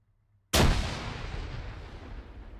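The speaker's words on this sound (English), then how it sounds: "That was a grenade. Flash grenade." A flash grenade detonates in a video game with one sudden, loud, booming blast after near silence, then a long rumbling decay that fades slowly over the next two seconds.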